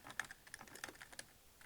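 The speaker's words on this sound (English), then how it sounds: "by just typing in the crypto project's name or your investment's name" Quick bursts of typing on a computer keyboard, a short run of light, irregular keystroke clicks close up with no voices.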